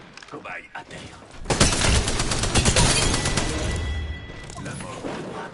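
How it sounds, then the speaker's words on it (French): Sustained automatic gunfire in the video game Apex Legends, a loud dense burst of rapid shots starting after a quieter opening and continuing with crashes and impacts, with game voices faintly mixed in. "Je suis sous les tirs."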